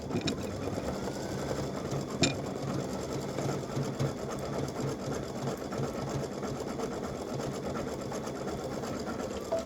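An embroidery machine stitches an elf applique design for a T-shirt or sweatshirt, a fast, steady mechanical needle chatter running continuously at moderate volume with one brief clack early on; no voices.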